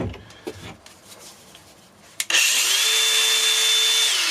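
A Dewalt DCG405N 18V cordless 125mm angle grinder spins up with a sharp click and rising whine, then runs at a loud, steady high-pitched hum close by.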